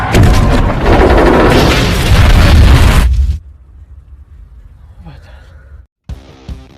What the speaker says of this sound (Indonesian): langsung meledak seketika.